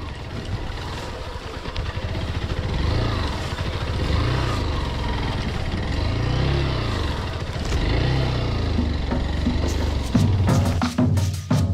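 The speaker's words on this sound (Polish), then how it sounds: "mały lekki motocykl po prostu przepchnąć na jedynce" A small 125cc motorcycle engine labours in first gear close by while climbing, its drone rising and falling in slow surges, with a brief clatter near the end.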